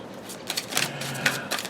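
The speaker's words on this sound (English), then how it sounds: "I'm going to do one more shuffle" Tarot card deck being shuffled by hand, a deck not used in a while: a series of soft crisp riffling bursts and flicks, about five or six close, quiet rustling strokes in an uneven rhythm.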